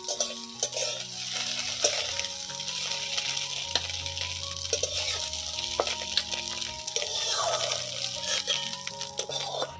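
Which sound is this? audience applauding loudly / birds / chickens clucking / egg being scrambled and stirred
egg being scrambled and stirred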